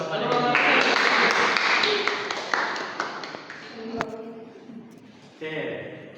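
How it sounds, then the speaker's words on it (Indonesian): Classroom applause for a student named Edi, a short burst of clapping that fades under a teacher's voice, followed by talk. "berikan aplaus kepada Edi"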